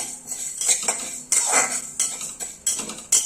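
Moong dal being dry roasted in a pan for metkut, after wheat has already been roasted, with a metal spoon stirring and scraping in close, uneven clinking bursts.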